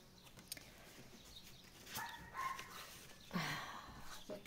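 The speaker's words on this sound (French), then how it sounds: "J'en ai un chien qui aboie." A dog barks a few times at a distance in the countryside, faint short yaps over quiet background hiss.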